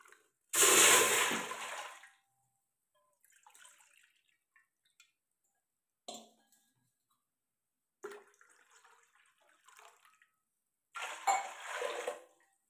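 Water poured from a bowl into a cooking pot to boil for sabudana potato chakli: a loud, close splashing pour lasting over a second, then quiet clinks and light handling sounds, and a second short pour near the end.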